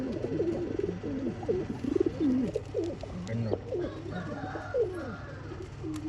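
Pigeons coo continuously at a loft in Bangalore, soft repeated low throaty calls from several birds overlapping at close range, with faint chatter in the background.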